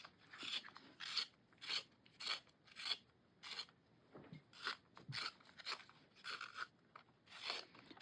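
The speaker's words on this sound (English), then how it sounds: "So I'm going to sharpen it in this one." A pencil is turned in a small Daiso sharpener, giving a steady series of short, close rasping scrapes in a regular rhythm with brief pauses between strokes.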